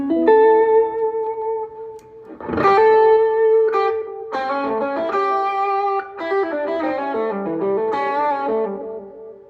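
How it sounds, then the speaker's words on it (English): Electric guitar played through a delay pedal for a tucked-back delay sound, with sustained single notes and short melodic lines whose repeats trail and overlap, steady and clean with no voices. "But I really like it for just kind of the tucked back delay sound."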